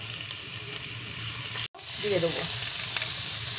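Garlic, ginger and fish fry with spices in oil for a Kolkata-style fish kachuri filling, making a dense continuous sizzle with a brief cut near the middle and faint stirring scrapes.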